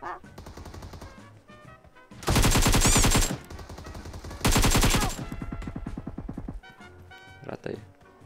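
AUG assault rifle fire in the PUBG Mobile video game comes in two loud, rapid full-auto bursts of about a second each, with fainter distant shots between and after them and people talking over the top.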